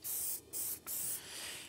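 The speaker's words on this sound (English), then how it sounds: "It's a lot drier spray than what I'm used to." Titebond PVC glue sprayed from a can in three bursts, each a loud, dry, broadband hiss with brief pauses between them.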